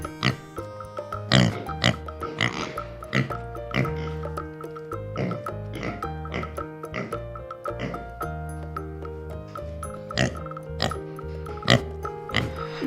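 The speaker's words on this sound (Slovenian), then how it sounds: "Prašič." A pig oinks and grunts again and again, in clear, fairly close snorts scattered across a bed of steady background music, as part of an animal-sound guessing game; nobody talks.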